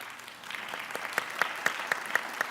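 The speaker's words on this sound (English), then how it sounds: "Can we give her a round of applause?" A summit audience gives a round of applause, scattered clapping that builds into a run of sharp, evenly spaced rhythmic claps standing out over softer background clapping.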